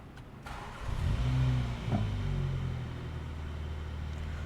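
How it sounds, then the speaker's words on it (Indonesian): A 2021 MINI Cooper, its cabin finished in black and leather, starts up: a brief crank catches at once and swells into a mid-pitched rev, then settles into a smooth, steady idle heard close by with nobody speaking. "Kita nyalakan dulu mesinnya."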